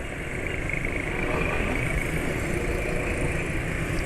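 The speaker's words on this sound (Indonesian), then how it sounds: "Tapi ya suara mesinnya kasar ya." Rough-sounding engine of a Suzuki Jumbo Ultraline vehicle running on the road, a continuous low rumbling drone that holds steady throughout with no talk over it.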